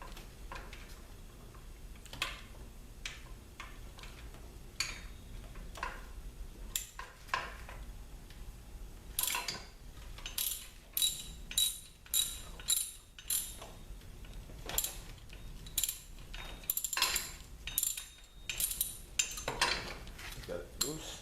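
A ratchet fitted with a T45 star socket loosens the tensioner on a car during air-conditioning compressor installation, giving close, irregular bursts of metallic clicking and clinking with short pauses between strokes.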